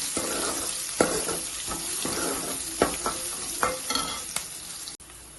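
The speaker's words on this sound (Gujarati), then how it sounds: "તો ડુંગળી અને લસણ સારી રીતે સંતળાઈ ગયા છે, એમાં લીલું મરચું ઉમેરીશું, તેને પણ સાંતળી લઈશું।" Green chilli sautéing in a pan with onion and garlic for Kathiyavadi kadhi, a steady sizzle broken by several sharp scrapes and taps of a stirring spoon against the pan, close and without talk.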